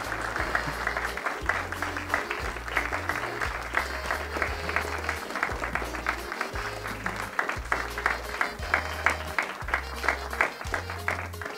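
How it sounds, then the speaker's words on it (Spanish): A church congregation claps for a girl celebrating her fifteenth birthday, sustained applause running throughout over a pulsing low rhythmic thump, fairly distant and even. "le damos un aplauso a Jenny hoy que está celebrando"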